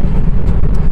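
A stripped, fully prepared BMW E36 running a big turbo roars loud and close under boost, a dense, brief engine blast with wind buffeting.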